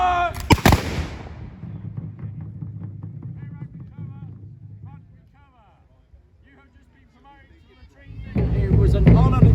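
Musketeers fire a black-powder musket volley, a loud close blast at the start followed by a fading rumble, with someone talking afterward and another burst of noise near the end.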